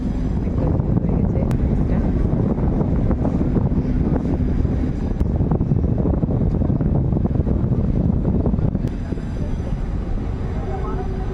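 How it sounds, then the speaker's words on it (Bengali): A river ship pulls away on the Brahmaputra at Guwahati, giving a continuous loud engine rumble with wind buffeting the microphone, and voices chatting throughout. "আমাদের জাহাজ ছেড়ে দিল"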